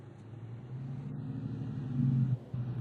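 A family car driving along a crowded road during a tsunami evacuation toward higher ground, heard from inside as a steady low engine and road rumble that swells slightly toward the end.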